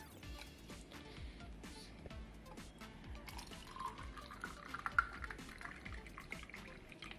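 Water trickles and splashes into a glass holding ice cubes and raw mango concentrate, a quiet close pour with light drips and clinks, no talk.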